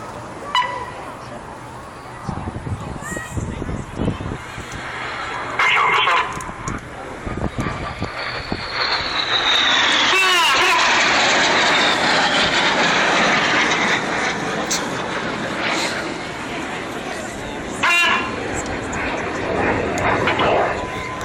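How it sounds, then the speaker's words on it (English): Red Arrows jets make a low Synchro Pass over the runway at the 2012 Farnborough show, closing at high speed. A distant roar builds into a loud, sustained rushing jet noise, with commentary throughout. "They're closing at over 800 miles an hour, just descending to 100 feet above the runway."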